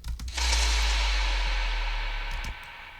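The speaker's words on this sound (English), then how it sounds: "I have an impact sound." Impact hit in an electronic track, its opening kick faded down: a swelling low boom holds loudly for about two seconds, backed by a broad noisy wash, then cuts off near the end.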